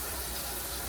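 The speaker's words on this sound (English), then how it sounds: "we are going to wash our hands" Running tap water in a kitchen while hands are washed: a steady, dense, close rush of water with no pauses and no voices.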